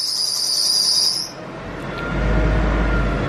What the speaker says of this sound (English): Sounds just like when you start up like an Evo 4 or something.